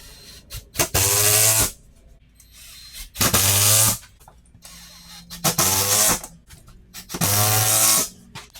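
A power drill drives screws into drywall fastened to studs in an abandoned home, four separate bursts of whirring, each lasting under a second and loud and close, with quiet handling noise between them.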